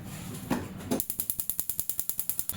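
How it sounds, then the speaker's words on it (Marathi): A gas stove igniter clicks rapidly and evenly, about a dozen sharp ticks in a row after a couple of soft knocks, close and clear with no talking. "तर आता मी इथे गॅस हा चालू करते"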